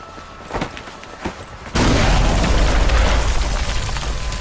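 A grenade explosion in a zombie TV drama scene: a few faint thuds, then a sudden loud sustained roaring blast rumble that carries on to the end.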